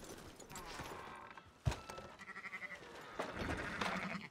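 Sheep bleat in Red Dead Redemption 2 over a busy game soundscape, with a wavering bleat near the middle and more bleating toward the end, set against steady ambient noise.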